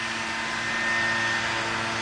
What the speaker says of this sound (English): I'm sorry for the noise from the leaf blower across the street